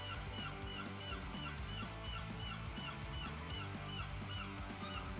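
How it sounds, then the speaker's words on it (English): Seagulls nesting right outside an attic space call in a steady, busy stream of overlapping cries, faint and somewhat distant beneath a constant low indoor hum. "Part of the problem with living in an attic space is that there are seagulls nesting literally there."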